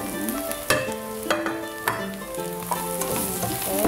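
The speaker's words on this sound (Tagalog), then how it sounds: "saute lang po natin and ilalagay na natin ang meatballs" Meatballs sautéing in a hot pan for a Filipino misua and patola soup, a steady loud sizzle broken by sharp scrapes and clatters of stirring, with no voices.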